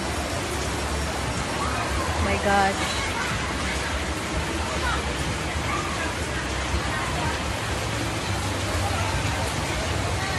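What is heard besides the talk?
heavy rain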